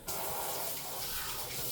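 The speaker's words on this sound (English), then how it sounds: "I'm going to add 1 more cup of water." Steady gush of water being poured into a pot of broccoli and cheese soup, a continuous broadband pour that holds for the whole stretch at moderate level.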